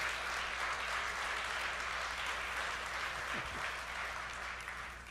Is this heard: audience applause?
yes